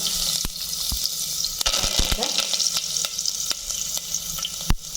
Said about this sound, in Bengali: দিয়ে দিলাম অল্প তেল লঙ্কা দিলাম তেজপাতা